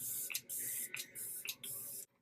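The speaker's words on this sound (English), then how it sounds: "I'm going to spray my face with the Lock-It Makeup Setting Mist from Kat Von D" Kat Von D Lock-It makeup setting mist sprayed onto a face, four quick hissing pumps in steady rhythm, close and clear with nothing else heard.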